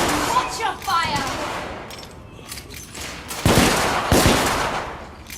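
Gunfire in The Order: 1886, with two sharp shots standing out near the end over a busy din of battle and voices in a Victorian-era firefight.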